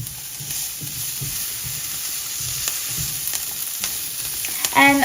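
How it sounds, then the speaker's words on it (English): Chopped garlic and green chilies sizzle steadily in hot oil for a korma beans curry, with soft scraping stirs pulsing through the frying noise at close range. "garlic cloves, I mean chopped garlic, and green chilies to that, and then stir,"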